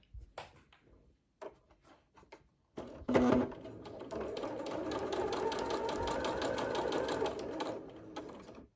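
A domestic sewing machine stitches fabric scrap strips together for quilt-as-you-go, starting with a few light handling taps before settling into a steady, close, continuous mechanical whir.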